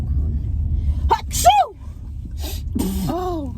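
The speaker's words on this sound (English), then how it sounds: "Bro, you just sneezed in my mouth" A person sneezes close to the microphone, with a sharp inhaled gasp building into a loud burst, followed by a second strained, whimpering sound over background rumble.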